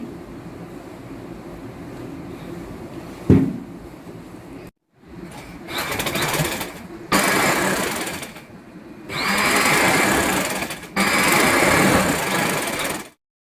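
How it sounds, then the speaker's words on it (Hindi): A sewing machine stitches together the two sides of a three-layer sharara, running in several bursts of a few seconds each with short pauses between them, loud and close, after a brief quieter stretch of handling at the start. "आसन वाली मैंने दोनों साइडों पे सिलाइयाँ लगा ली हैं, दोनों हिस्से जोड़ लिए शरारे के।"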